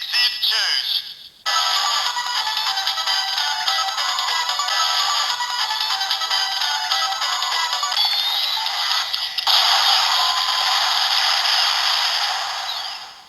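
DX Faiz Phone X toy from Kamen Rider activating Exceed Charge, a loud electronic sequence of synthesized tones, whooshes and chiming effects over several seconds with a short break early on, heard close and without talk.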